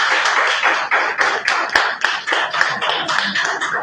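Brisk applause from an audience at a company head-office event, a dense, even rattle of many hands clapping steadily for a few seconds with no speech.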